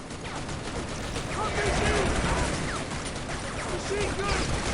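Sustained machine gun fire in the shooter game Shadow Ops: Red Mercury, a loud, steady wall of rapid gunshots and battle noise, with shouting voices heard briefly over the din.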